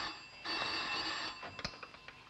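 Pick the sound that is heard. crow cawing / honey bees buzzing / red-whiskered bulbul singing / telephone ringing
telephone ringing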